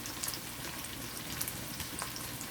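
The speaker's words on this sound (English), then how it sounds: "So I'm sauteing the onion and the garlic right now" Onion, garlic and a little ginger sauté in a pan, giving a steady, close sizzle dotted with small crackles and pops throughout, with no talking.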